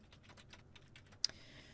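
Keys clatter at a quick, uneven pace as someone types a search on a computer keyboard. One sharper key strike near the end stands out, and the rest stays soft and close with no talk.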